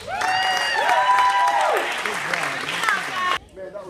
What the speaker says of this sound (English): Go ahead and give him a round of applause